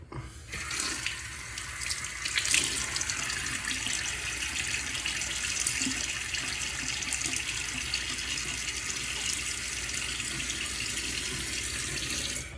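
A bathroom tap runs steadily into a sink as a man wets his face before a shave, a continuous close hiss of flowing water with light splashing and no talk.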